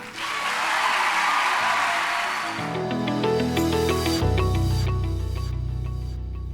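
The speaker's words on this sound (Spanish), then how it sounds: "demos un fuerte aplauso" An audience breaks into loud applause after a constitutional address, a dense wash of clapping that swells and carries on as music enters and builds beneath it.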